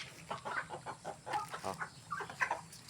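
Native chickens being fed in the morning cluck busily nearby in a rapid, uneven string of short calls, several birds overlapping with no one speaking.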